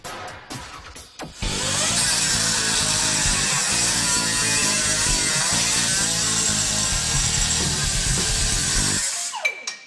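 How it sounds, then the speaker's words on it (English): An abrasive cutoff wheel grinds steadily through a metal tube on a Jeep TJ front end, a loud sustained high-pitched whine running about eight seconds after a few short starts, then spinning down. "cut it part way, bend it back out of the way, and that'll gain the cutoff wheel access to the back of that tube"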